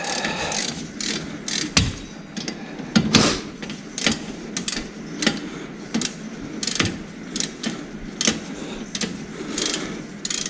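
Torque wrench tightening the front brake bolts on a 1998–2002 Honda J30 V6, a close run of rapid ratcheting clicks in uneven bursts with a few louder clanks and no speech.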